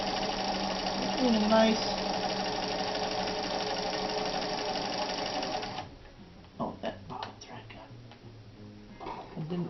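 A sewing machine sews denim jeans with a lengthened stitch, a steady close whirring drone that runs for about six seconds and then stops, with people talking afterward.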